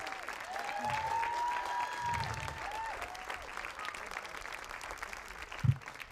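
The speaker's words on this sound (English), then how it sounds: "a huge round of applause for our runners-up, Breaffy" An outdoor crowd applauds the runners-up at a women's senior final, with a continuous spread of fairly distant, soft clapping and faint tonal whistling above it, plus a brief low thump near the end.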